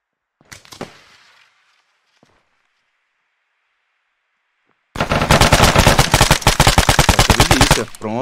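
Rapid automatic gunfire from the military shooter Arma 3 on Stratis, a long close burst of evenly spaced shots after a few faint scattered sounds and a quiet stretch.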